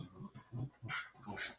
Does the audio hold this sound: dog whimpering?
yes